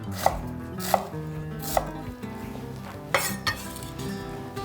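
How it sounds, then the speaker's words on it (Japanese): A kitchen knife drops through a scored onion onto a cutting board in crisp, close chops, three evenly spaced and then a couple more, with light utensil clinks and background music underneath. "また包丁を落とし込んでいきます。"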